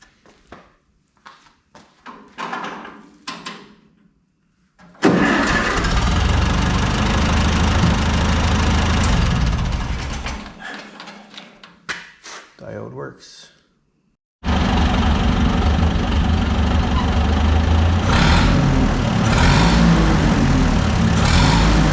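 An Oliver 66 Industrial tractor engine just after a carburetor rebuild cranks, catches and idles loudly nearby, goes quiet with clanking noises, then starts again and settles into a steady, rough idle.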